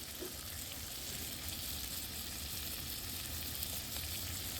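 Pats of butter melt with a little cooking oil in a camping pan, giving a soft, even sizzle that holds steady and fairly faint throughout, with no voices.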